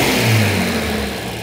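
Classic GTX car with twin SU carburetors catching and running, a loud, steady low engine drone that swells slightly, then holds close and even with no talk.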